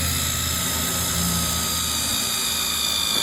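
A power tool drives a screw into a pre-drilled greenhouse truss, giving a steady, close, high motor whine that holds unbroken for the whole three seconds.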